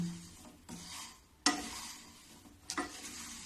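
A spoon stirs thick cooked jaggery for rewdi in a pan after the gas is turned off; soft, faint scraping strokes and a low hiss come with a few sharper scrapes.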